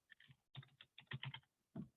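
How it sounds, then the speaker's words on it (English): Quiet, close-up typing on a computer keyboard, short clusters of key taps in uneven bursts separated by brief pauses. "my typing's getting worse"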